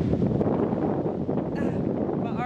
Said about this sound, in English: It's actually a lot colder than I thought it would be. Super windy, but still really beautiful.